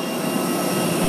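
An airplane sits on the tarmac at Sibulan Airport in Dumaguete just after landing, giving off a loud, steady broadband jet-engine roar that fills the whole moment.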